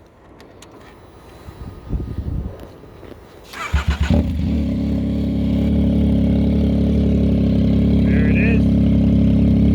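A Yamaha Tracer 900 motorcycle with an Austin aftermarket exhaust cranks over, catches and settles into a loud, rumbling idle, after a few clicks and handling noises and a short spoken remark.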